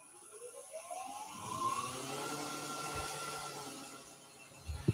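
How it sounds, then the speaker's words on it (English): A wood lathe spins a nutcracker blank into a cylinder, its motor whine rising in pitch as it speeds up from a standstill, then settling into a faint steady hum, ending with a couple of soft knocks. "Turn the lathe on."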